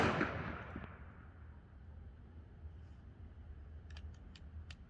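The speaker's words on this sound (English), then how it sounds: "I'm going to shoot to the board to the left" A single sharp gunshot from an XDM Elite 3.8 10mm pistol fired at a board, loud at the very start and decaying into a quiet background, followed by a few faint clicks.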